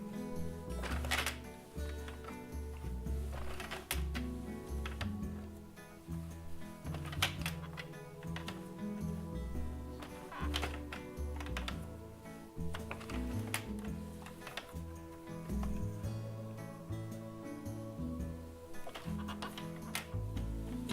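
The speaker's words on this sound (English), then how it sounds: "Do you hear that audible clicking sound every time the needle drops into the carriage?" An Addi circular knitting loom working an alpaca hat, its needles clicking into the carriage in a steady run of small ticks over a continuous mechanical rumble.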